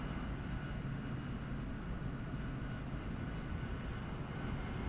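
Engine noise from an AV-8B Harrier jet in DCS World, a steady broadband roar that holds loud and even throughout as power comes up on approach with the gear lowering.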